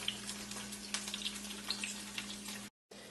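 Tofu fries in hot oil in a pot, a steady close crackling sizzle with scattered pops over a constant low hum, briefly cutting out near the end.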